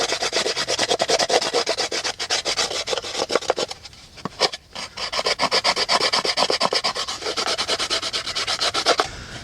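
A coarse rasp scrapes rhythmically along the edges of a dried gourd container, rapid repeated back-and-forth strokes, close and loud, with a brief pause near the middle before the filing resumes.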